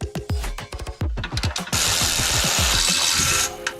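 A power tool removes the lower shock bolt on a Miata coilover: a quick series of sharp, close hammering impacts, then a steady loud whirring burst that holds for almost two seconds before cutting off.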